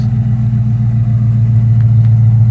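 A Ford F250 Super Duty 6.2 pickup with an aftermarket Dynomax exhaust idles with a deep, steady exhaust rumble, loud and close, holding an even drone throughout.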